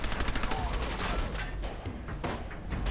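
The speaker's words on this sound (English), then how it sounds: "Where am I getting shot from?" Dense, continuous gunfire in Fallout 4, rapid overlapping shots close by, loud and unbroken throughout with no pauses.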